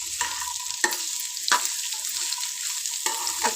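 Chopped radish frying in hot oil in a pan, a steady sizzle with a few sharp scraping stirs of a spoon or spatula at intervals, close and alone.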